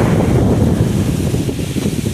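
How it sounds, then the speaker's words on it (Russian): Strong wind after a hurricane roars across the microphone in a loud, unbroken buffeting rush outdoors near a Goodwill store in the USA. "потому что такой здесь ветер. Кошмар."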